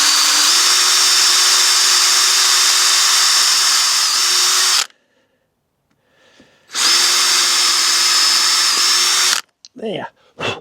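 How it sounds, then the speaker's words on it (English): A power drill boring pilot holes into wood for a strawberry planter, two sustained high-pitched whirring bursts of several seconds each separated by a quiet pause, close and loud, ending in short clattering handling sounds. "I'm going to need to drill some pilot holes, which will help the screws go through the wood and not split it"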